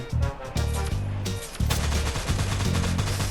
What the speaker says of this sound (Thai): สับยิงไปหนึ่งชุดกระจุยหมดอ่ะ สับยิงสองชุดล้มหนึ่ง